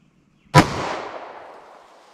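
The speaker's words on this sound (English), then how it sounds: "let's see how close we get to 1210 with this Winchester Silvertip ammo" A single sharp 9mm handgun shot firing Winchester Silvertip ammunition from a 4-inch barrel, close and loud, with a sudden crack followed by a long fading echo and no talk.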